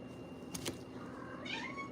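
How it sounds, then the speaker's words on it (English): A house cat gives one short, rising meow close by against a quiet, faintly noisy room. "My cat."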